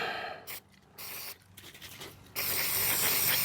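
Cleaner spray is sprayed onto a rag while painting a lower grille, with short hissing bursts followed by a sustained, louder hiss near the end.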